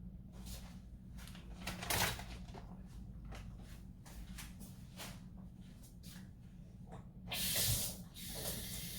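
Scallops being rinsed under running tap water in a home kitchen, a steady close hiss of flowing water with brief louder splashing surges near the end, no voices.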